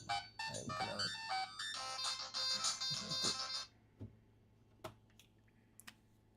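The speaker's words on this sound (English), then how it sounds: "I am getting a phone call." A phone ringtone sounds during a Dark Souls playthrough, a bright rapid electronic melody for about three seconds, then faint scattered clicks and ticks in a quiet room, with no talking.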